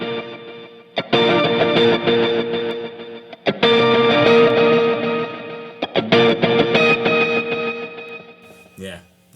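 Electric guitar through a Line 6 Helix patch with ping-pong delays, octave-up and octave-down pitch shifting, pitch bends and vibrato, playing loud sustained chords with warbling repeats in several phrases, alone with no talk.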